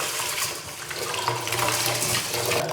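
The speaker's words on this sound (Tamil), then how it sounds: "பாருங்கள் அரிசி கழுவி முடியுது." Rice being washed by hand in a vessel under running water, a steady splashing and swishing flow with light sloshing, close and continuous for a few seconds.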